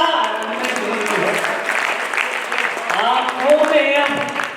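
An audience at a Hindi kavi sammelan poetry recital claps in a dense, sustained wash, and a crowd murmur and a voice sit underneath. It swells slightly toward the end.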